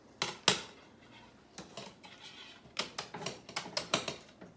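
Scissors snip through screen mesh in crisp, close clicks, two at first, then a few more, then a quick run of snips near the end.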